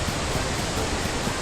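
A waterfall in the video game Dragon Quest XI roars as a dense, steady wash of rushing water, loud and close, with no break.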